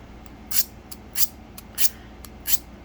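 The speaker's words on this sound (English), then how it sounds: "It's a very rough grit diamond sharpening steel, so I'm hoping that'll help kind of fix that edge a little bit." A knife tip drawn along a rough-grit diamond sharpening steel, four quiet, evenly spaced rasping strokes with faint light ticks between them and no talk.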